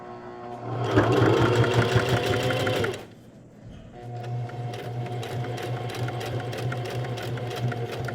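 Sewing machine stitching a pirate eye patch, a steady close-up whir that runs for about three seconds, drops briefly, then resumes as a finishing backstitch at the end of a seam.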